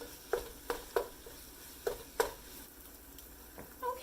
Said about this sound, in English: Now with onion, you basically want to cook it until it starts to lose color.